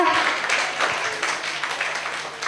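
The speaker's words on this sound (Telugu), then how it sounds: "గట్టి చప్పట్లు కొడదాం అలెలుయా" A church congregation claps loudly together, a dense, steady burst of applause lasting a couple of seconds with voices mixed in.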